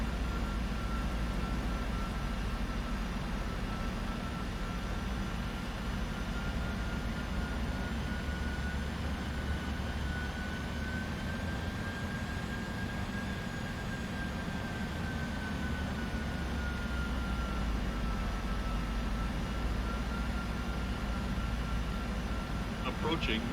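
A Boeing 747-400 in Flight Simulator X on autoland approach into San Diego, with a steady, loud engine and cabin drone that stays continuous throughout.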